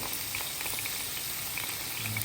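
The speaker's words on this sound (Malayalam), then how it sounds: "അവിടെ നമ്മുടെ പാസ്ത തിളയ്ക്കുന്നുണ്ട്." A steady, dense bubbling and hiss of a pot of pasta boiling vigorously, continuous throughout with no voices.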